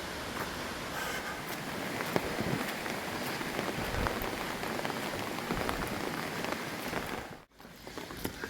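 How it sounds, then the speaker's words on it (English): Steady rain patters densely on a mountain trail below Mont Blanc near Les Houches, an even close hiss of drops that briefly cuts out near the end. "It's raining."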